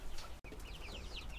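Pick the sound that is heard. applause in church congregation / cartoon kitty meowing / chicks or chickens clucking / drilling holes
chicks or chickens clucking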